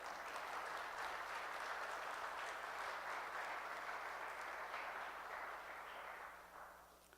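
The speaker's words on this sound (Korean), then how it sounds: "우리 찬양팀을 위해 격려의 박수를 한번 드립시다" A church congregation applauds its worship team during a Good Friday service, a steady wash of clapping that sounds faint and distant, holding evenly before fading in the final second.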